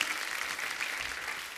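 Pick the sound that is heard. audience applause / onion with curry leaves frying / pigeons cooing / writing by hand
audience applause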